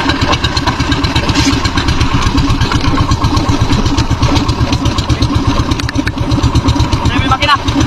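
A boat engine runs loud and close with a steady, throbbing low rumble and mechanical clatter, continuous throughout with voices faintly in the background.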